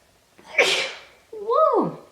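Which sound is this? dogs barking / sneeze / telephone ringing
sneeze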